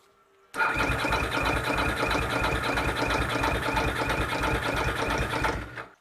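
An older vehicle engine is cranked using an Abox TrekPow battery jump starter: after a brief quiet moment it catches and runs loud and steady with a rapid rhythmic pulse for several seconds, then cuts off abruptly.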